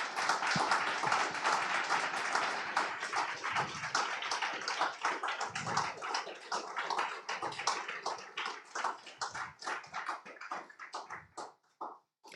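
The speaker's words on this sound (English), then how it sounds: "we should give a big applause to Interreg" An audience at a Green Governance Day event applauds Interreg with dense, loud clapping that thins into scattered, fading claps toward the end.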